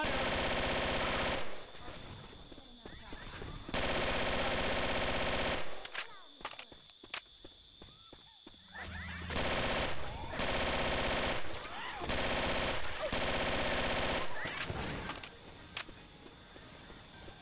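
Gunfire in Left 4 Ponies 2: long loud bursts of automatic fire alternate with short quieter gaps, close and harsh, with game noises between.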